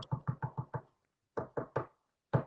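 Knocking imitating the Tommyknockers said to knock in the mines: two quick runs of sharp, close knocks, five raps then three, with a single rap after a pause, and no talk.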